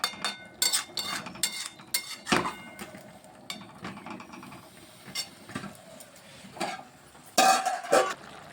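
A ladle pressing and stirring flat-bean (shim) chochchori vegetables simmering with a little water in a pan, giving irregular metallic scrapes and clinks over a soft bubbling hiss.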